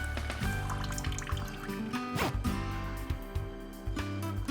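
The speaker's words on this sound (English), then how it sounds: "Begin urinating into the toilet." A stream of urine pours into a toilet bowl, continuous splashing and trickling close by, filling the whole stretch without talk.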